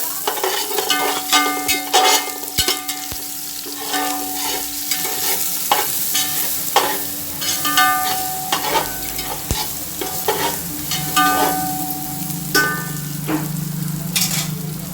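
Ginger-garlic paste sizzles and fries in hot oil with onions, with steady crackling and a spoon stirring and scraping the pan at close range throughout.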